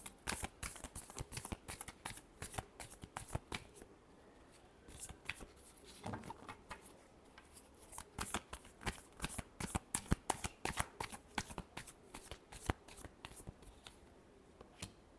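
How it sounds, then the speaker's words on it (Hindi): A deck of tarot cards shuffled by hand, with rapid bursts of crisp riffling snaps and flicks in quick clusters, close and fairly quiet, pausing briefly in the middle before resuming. "Last shuffle."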